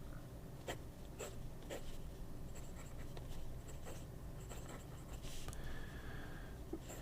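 A fountain pen with a medium nib scratches across paper in short, quiet strokes and taps, faint and close against a soft background hiss, with no talking.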